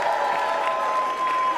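A large crowd at the CPAC political conference in Dallas, Texas cheers and applauds in one steady, loud, dense roar that holds for the whole short stretch without a break.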